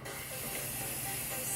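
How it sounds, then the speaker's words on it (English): A spray bottle mists water onto a wig during styling, giving a steady, close hiss that runs throughout at moderate loudness with no one talking over it. "spray it down."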